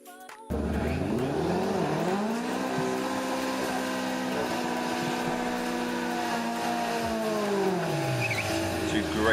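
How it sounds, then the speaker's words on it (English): VW drag cars do smoky burnouts at Bug Jam, the engines holding a loud, sustained high rev with tyres spinning before easing down, with a voice heard over the noise. "Two great big smoky burnouts there from Dave Bridge and Jake Fonda."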